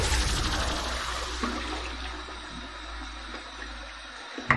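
Water runs steadily from a bathroom tap as the face is wetted before a shave with a Merkur HD 34C safety razor, a continuous rushing flow with a small knock at the end.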